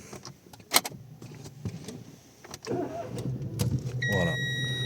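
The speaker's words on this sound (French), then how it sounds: "la voiture démarre très facilement" A Renault Mégane with a misfire, running on three cylinders, starts up: a brief cranking leads into a steady mid-loud idle with some whirring at the start and faint tones later.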